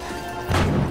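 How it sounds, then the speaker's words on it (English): In a video game, a flash grenade goes off with a sudden loud, crashing burst about halfway through, after a steady low hum and background game noise, and no talk is heard. "A flash grenade, John."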